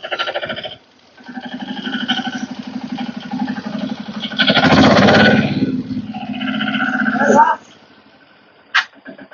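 An Apollo tractor engine runs steadily with a low, throbbing chug, rising to a louder burst midway before dropping off, with a brief sharp knock near the end.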